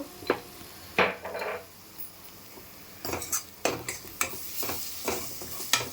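Onions fry in a pan for a curry, giving a steady sizzle under intermittent scraping and clinking as a utensil stirs them against the metal.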